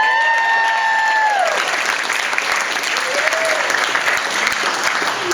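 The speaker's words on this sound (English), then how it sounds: "holler, shout, and clap if you agree with me" Wedding guests at a best man's toast break into loud, sustained applause with whoops and shouted cheers, a dense continuous wash of clapping filling the room from start to finish.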